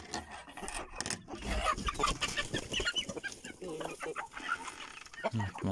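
Chickens in a coop cluck and call near at hand in a busy, irregular stream, mixed with scratching and rustling movement.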